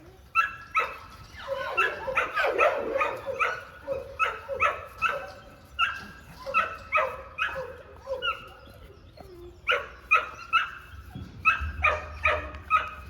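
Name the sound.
dogs barking, American Pit Bull Terriers and American Sentinels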